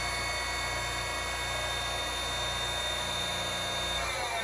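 A surface grinder runs steadily, a loud continuous whirring hum with a high whine that holds evenly throughout and starts to wind down near the end, with no voices.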